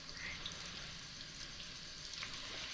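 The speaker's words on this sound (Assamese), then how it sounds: "শুকাই লোৱা আমখিনি কেৰাহীটোত দি দিম।" Dried mango pieces fry in hot oil in a wok for mango pickle, giving a continuous, even sizzle that stays fairly soft and steady throughout with no talking.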